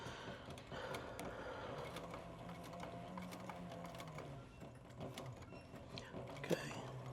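A treadle sewing machine sews down leather edges with a faint, continuous mechanical whir and clicking, light rattles and taps over a quiet room.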